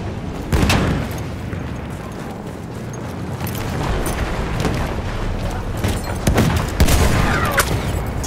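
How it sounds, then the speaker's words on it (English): A grenade explodes amid a Battlefield firefight, with sharp booms and bursts of gunfire cracking out across a constant roar of battle, loud and close, with heavier blasts near the start and end. "Grenade out!"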